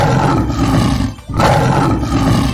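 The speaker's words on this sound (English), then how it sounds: "L for lion." A lion gives a loud, close roar that breaks off briefly midway, then swells again into a second heavy, rumbling roar, with no talk over it.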